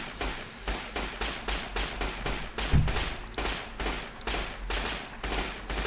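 Rapid, repeated gunfire from the video game Fallout: New Vegas, a steady string of loud shots at an even rhythm for about six seconds, with no talking.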